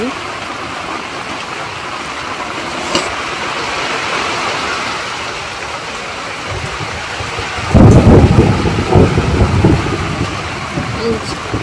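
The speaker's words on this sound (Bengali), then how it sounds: "ভালোই জোরে বৃষ্টি এসছে।" Heavy rain pours down steadily, with a distant rumble of thunder and a sharp surge in downpour intensity partway through, close and loud, while a voice speaks over it.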